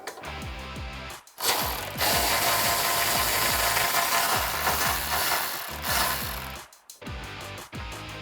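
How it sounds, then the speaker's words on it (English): Rapid clicking of a ratchet and 13mm socket loosening an exhaust hanger bolt under a 2005-2010 Mustang GT, in several bursts separated by short pauses, close and clear. "Now grabbing your 13mm socket, remove the hanger from the back end of the Mustang."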